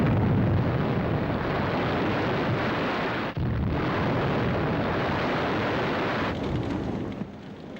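Continuous heavy roaring explosions as factories and fish oil tanks are destroyed, a dense, loud, unbroken rumble with a brief dip midway and no voices.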